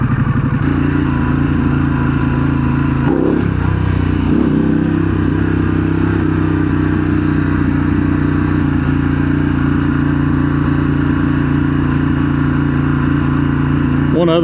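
A 2023 Harley-Davidson Pan America Special motorcycle is ridden, its engine holding a loud, steady drone the whole way through with a brief dip near the start, and a voice speaks over it.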